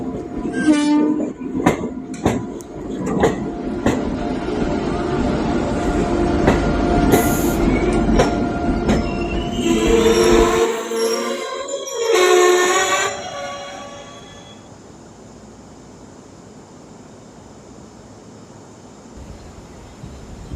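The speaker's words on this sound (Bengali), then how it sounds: "ওই তো ট্রেন আসছে।" A train pulling into a railway station platform, loud and close, with rumbling wheels, clanking carriages, a sharp horn blast and squealing brakes before it settles into quiet.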